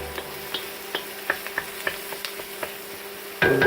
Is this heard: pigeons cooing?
no